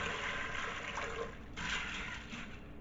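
Water pours steadily into an Instant Pot holding chickpeas, a faint continuous splashing gush that briefly softens, then surges again.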